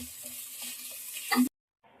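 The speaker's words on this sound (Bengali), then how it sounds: "এখন আমি আমার পোলার চালটা ভেজে নিয়েছি সুন্দর করে" Polao rice frying in a pot for biryani gives a close, steady sizzle with light stirring that swells briefly, then cuts off into near silence.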